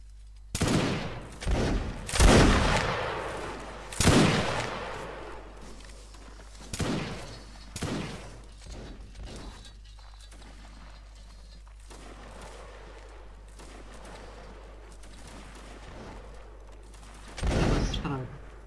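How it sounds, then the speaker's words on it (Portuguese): Musket volley fire from a Mount & Blade: Napoleonic Wars line battle: several loud, ragged bursts of massed shots near the start, sparse shots in the middle and another burst near the end, with faint movement between them. "disparem quando quiserem"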